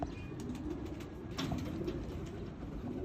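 Pigeon cooing, a performance-bred teddy pigeon, heard as a steady low murmur close by against a constant background hum, with no voices.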